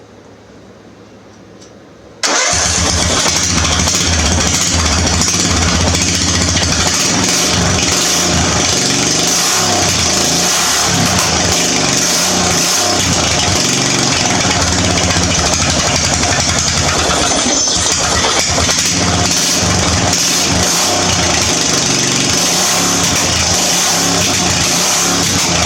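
A homemade fast lawn mower's engine fires up after a short quiet moment and then runs loud and rough right up close, revving and rattling steadily for over twenty seconds.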